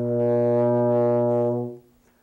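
A baritone horn sounds one loud, steady buzzed-lip tone, held for about a second and a half before cutting off, with no speech.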